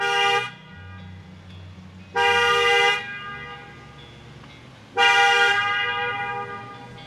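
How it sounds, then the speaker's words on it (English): A loud truck horn blares three times, each a sustained blast of under a second, separated by pauses with a low engine rumble underneath. "she said to sound the horn loud"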